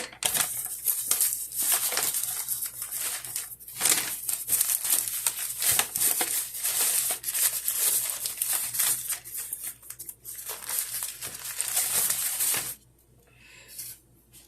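Plastic packaging being unwrapped from raw bratwurst, a long run of close, loud crinkling and rustling that stops abruptly near the end.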